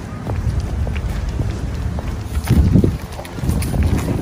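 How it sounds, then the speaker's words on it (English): Wind gusts buffet the microphone in a New York City park, a low rumbling roar that swells and surges strongest midway, with brief talk underneath. "Getting windy."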